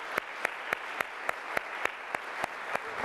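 Sharp, evenly spaced claps ring out at an event on Occupy movement tactics, about a dozen in a slow steady rhythm, sounding like a lone pair of hands rather than a full audience.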